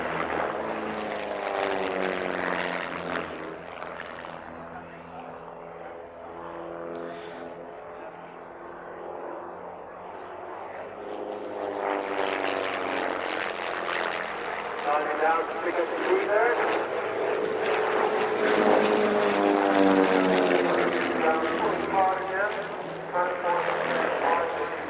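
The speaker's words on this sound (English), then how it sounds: "Climbing vertically now and turning again as the plane almost comes to a stop, and then diving, pulling several G." Small propeller aerobatic plane performing at an airshow at Newtownards, its engine drone rising and falling as it climbs, turns and dives, heard under continuous commentary.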